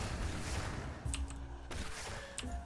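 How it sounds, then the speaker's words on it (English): Explosions boom in the action RPG Last Epoch, a dense continuous rumble with sharp crackling bursts and a couple of heavy impacts, layered with brief tonal game effects. "Explosions!"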